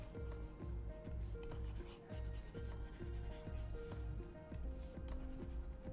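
An eraser rubs writing off a board in a GED class, scrubbing back and forth in a steady repeating rhythm of strokes, close and moderately loud with no talk.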